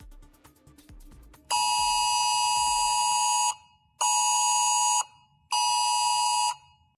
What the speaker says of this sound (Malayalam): സൗദി സിവിൽ ഡിഫൻസിൽ നിന്ന് നിങ്ങളുടെ മൊബൈൽ ഫോണിൽ ഇപ്പോൾ കേട്ടതുപോലുള്ള അടിയന്തര മുന്നറിയിപ്പ് സന്ദേശങ്ങൾ